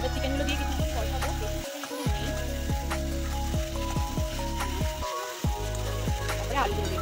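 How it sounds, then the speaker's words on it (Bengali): Chicken pieces fry with spice masala in a pan, a continuous close sizzle broken by repeated scraping stir strokes and two brief pauses, with no voices. "এবার চিকেনগুলো দিয়ে কিছু কষাবো"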